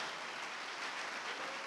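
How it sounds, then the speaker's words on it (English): Continuous crowd applause, a dense steady wash of many hands clapping at once, heard from a slight distance with no talking. "let's give them one more round of applause"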